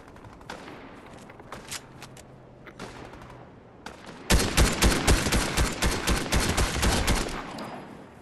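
Video game gunfire, a few scattered shots followed by a loud sustained burst of rapid automatic fire that runs for several seconds, close and dominant.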